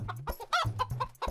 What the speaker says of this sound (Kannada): ಮೋಟು ಕೋಳಿ ಹಿಡಿಯೋದಕ್ಕೆ ಏನಾದ್ರು ಒಂದು ಐಡಿಯಾ ಕೊಡೋ.